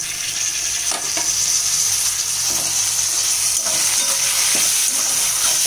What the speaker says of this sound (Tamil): இப்போ நான் வந்து தக்காளி போடுறேன்.